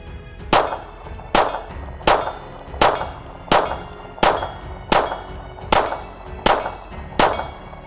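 Eight evenly spaced gunshots from a Ruger LCP II .22 LR pistol firing Federal bulk ammunition, each a sharp, loud crack at a steady rhythm of about one shot per second, with no voices.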